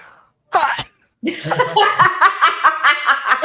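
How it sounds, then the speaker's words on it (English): A single sharp sneeze from a person, then a brief quiet gap, then laughter and chuckling fill the rest of the clip. "did you just sneeze?"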